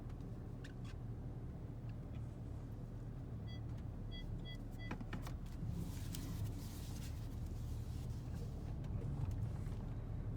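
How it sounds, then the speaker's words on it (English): A 2012 Audi A4 on a test drive, heard from inside the cabin as a steady, continuous low engine and road rumble, with no talking. "I'll take you guys for a little test drive too here."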